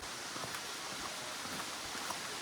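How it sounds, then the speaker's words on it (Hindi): Waterfall at Gauri Dham in Rajsamand, running low after weak rains, gives a steady, even broadband rush of falling water with no breaks, moderately distant and with no voices. "उस साइड चल रही है वाटरफॉल"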